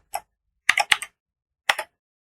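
A few quick keystrokes on a computer keyboard while using the Kali Linux terminal, a lone tap followed by two short clusters of crisp clicks, close and isolated against silence.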